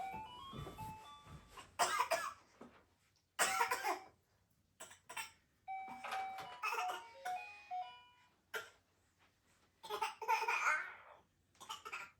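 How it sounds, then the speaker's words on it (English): A baby gives a string of short, breathy fake coughs and vocal bursts in a home where four dogs are kept, the sounds coming in separate clusters with quiet gaps between them. "Oh, it's a fake cough."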